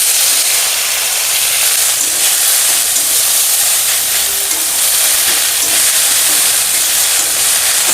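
Leafy greens hit a hot pan of oil with crushed garlic, dried chillies and bay leaf, setting off a loud, steady hissing sizzle that holds without a break.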